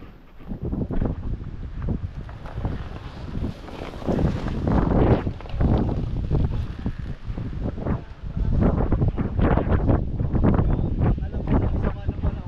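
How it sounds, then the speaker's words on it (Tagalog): Strong wind buffets the microphone in loud, irregular gusts and roaring rushes that run throughout, with people's voices faintly mixed into the blustering. "Ay, lakas na kaya ng hangin."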